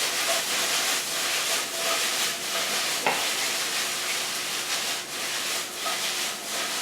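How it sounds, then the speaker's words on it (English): Onions tossed in a hot pan while meal prepping, a loud continuous sizzle swelling in regular waves with each toss and a single sharp scrape partway through. "Let's toss our onions."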